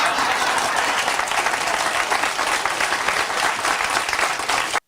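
A small TV studio audience applauds in a dense, steady clatter of clapping that runs loud and unbroken, then cuts off abruptly at the end.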